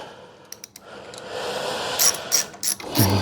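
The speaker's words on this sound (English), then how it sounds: "Right, so we can undo those now. Undo these Torx bits." A hand ratchet clicks in short bursts while undoing Torx bolts on a Briggs & Stratton V-twin engine, close and crisp, with pauses between the ratcheting strokes.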